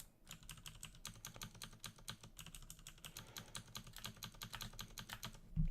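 Computer keyboard keys tapped steadily and rapidly while playing Dungeon Crawl Stone Soup, a dense run of close clicks continuing throughout with no talking.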